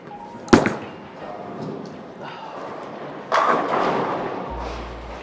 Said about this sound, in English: So, Darren, I want you to throw one more shot.